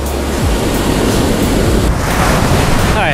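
Ocean surf breaks on a beach in a loud, continuous wash of churning water and wind, close to the microphone and without talk.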